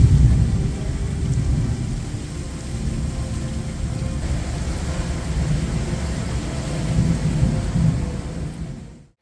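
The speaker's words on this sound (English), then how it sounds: "Lightning strikes continued, illuminating the night sky brightly, accompanied by thunderous roars." Night thunderstorm with heavy rain and continuous rolling thunder, a loud, steady low rumble filling the scene before cutting off abruptly at the end.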